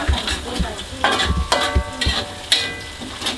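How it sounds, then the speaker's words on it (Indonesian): Loud, close stir-frying of ingredients for nasi goreng in a pan: rhythmic metallic scrapes and clangs of a spatula over a steady sizzle, with a short ringing tone between strokes. "Kita tumis sampai harum."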